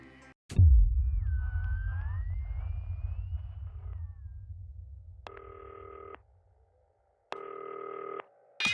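In the game Not For Broadcast, a telephone rings in two clear electronic bursts, each about a second long with a gap between them, heard after a low thump and a fading rumble with a thin tone over it.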